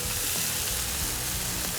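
Smash burger patties sizzle steadily on a flat-top griddle during flipping, a dense, continuous close frying hiss with faint scraping and no talk.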